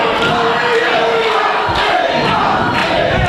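A wrestling show crowd roars and shouts in a loud, continuous swell during a Rodney Mack match, with a few sharp thuds and yells cutting through the din.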